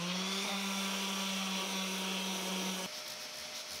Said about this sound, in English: We'll give this a quick sanding and put a little finish on it.